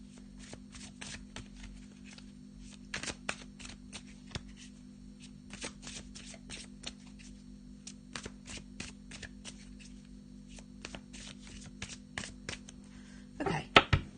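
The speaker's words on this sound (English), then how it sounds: "let's have a little shuffle of the black and white Faulkner deck" A black and white tarot deck is shuffled by hand in a quiet room, giving rapid bursts of crisp card riffles and taps repeated throughout, with a steady low hum underneath and no talking.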